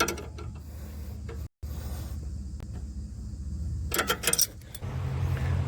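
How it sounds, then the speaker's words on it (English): A wrench is turned on the A-arm of a 2011 Ford Edge during a ball joint replacement, giving close, steady metallic ratcheting and clinking that breaks off briefly, then returns with a burst of jangling near the end. "Go ahead and turn this wrench a little bit."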